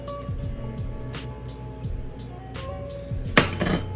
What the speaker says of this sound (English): Now we need to put this back in the oven